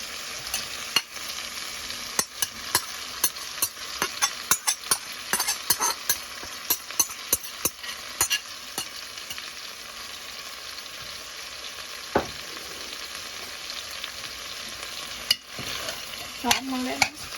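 Chicken stew pieces frying in oil with added seasoning, a steady close sizzle with frequent sharp stirring clicks and scrapes of a utensil against the pot.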